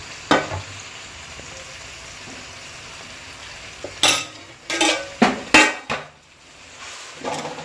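Methi muthiya dumplings dropped into a hot pan for a Gujarati tea-time snack, giving sharp clattering knocks and sizzling bursts over a steady low fry, with several close thumps toward the end.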